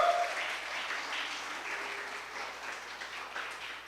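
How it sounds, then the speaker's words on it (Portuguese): A church congregation at a deliverance service applauds together, a soft, distant and sustained patter of clapping with no talking over it. "Dá um forte aplauso ao Rei Jesus."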